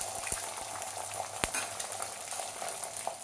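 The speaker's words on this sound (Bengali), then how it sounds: "ডিমটা একটু ভাজা ভাজা করে নেব।" An egg seasoned with salt frying in a little white oil in a pan, giving a steady close sizzle with a few sharp crackles and spatters.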